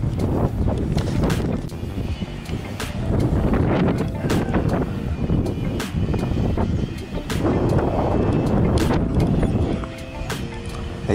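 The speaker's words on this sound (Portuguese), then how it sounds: "num dia muito frio, ventando muito, você percebe o balançar da câmera, o barulho do vento" Heavy wind buffets the microphone in continuous rumbling gusts at Sorocaba airport in Brazil on a very cold day, loud and rough throughout, with no talking.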